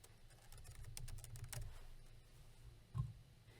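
Soft, quick keystrokes on a computer keyboard patter in a short burst, faint and close, with a slightly heavier tap near the end and no talking.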